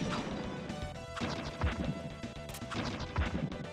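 Repeated crashing smashes and whacks as a car is beaten apart in the Mighty Morphin Power Rangers SNES game, sharp hits landing in quick bursts over busy chiptune game audio.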